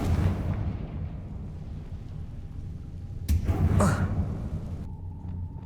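A Confringo fire spell exploding in the Hogwarts Legacy game: a sudden sharp blast a little past midway rises out of a low rumbling ambience, followed by a brief roar and then a thin steady tone.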